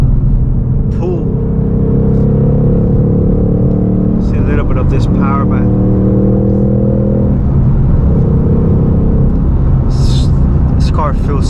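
A 2023 Ford Mustang Mach 1 engine rumbles and pulls under steady quarter-throttle acceleration, fairly loud and close, with someone talking over it throughout.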